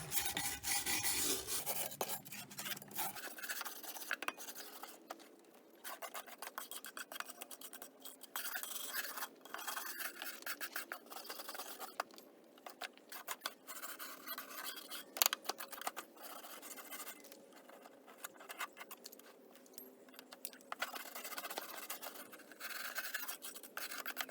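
A stiff brush scrubs debris off fascia boards and eaves from a ladder, giving dry, raspy scratching strokes in irregular bursts, close and fairly quiet with no talking.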